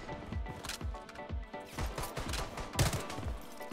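An MP5 fires in Bloodstrike as quiet, rapid bursts of regular shots with a sharp, rhythmic attack, heard fairly faint and distant.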